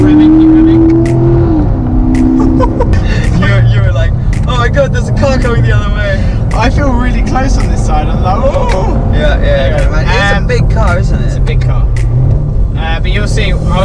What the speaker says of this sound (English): So if you get your foot down, go on. Keep revving.